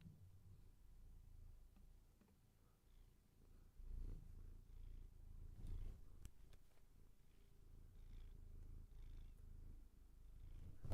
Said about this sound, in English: Purr into the mic.